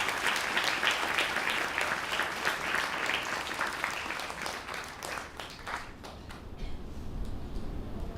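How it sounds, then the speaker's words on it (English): Sustained audience applause at a live Carnatic concert, honoring the gurus: dense, even clapping throughout that thins out toward the end. "I think for this, the gurus do need another round of applause."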